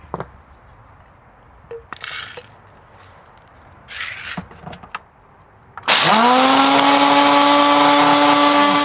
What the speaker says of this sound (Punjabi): ਸਭ ਤੋਂ ਪਹਿਲਾਂ ਆਪਾਂ ਇਹੀ ਗ੍ਰਾਈਂਡ ਕਰਾਂਗੇ